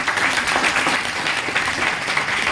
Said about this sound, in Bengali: আগে তার জন্য একটা বিগ ক্ল্যাপিং হয়ে যায়